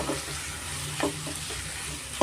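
Garlic chicken frying on medium flame, a constant close sizzle with a few scraping stir strokes of a spoon against the pan, no voices.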